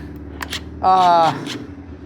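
Harbor Freight Hercules cordless impact wrench with a 19 mm socket, working on a KTM fork during seal replacement, gives one short, loud buzzing burst of under half a second, with talk before and after it.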